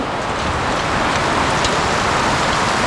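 Steady, dense rain pours down continuously with an even, full hiss and no voices.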